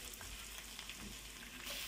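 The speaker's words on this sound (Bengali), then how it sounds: "পেঁয়াজ কুচিটা একটু বাদামি রং করে ভাজতে হবে।" Chopped onions frying in hot oil for chicken biryani, a soft, steady sizzle with faint stirring scrapes, fairly quiet and with no one talking.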